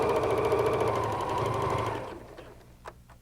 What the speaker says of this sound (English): So we'll just keep sewing, matching our points.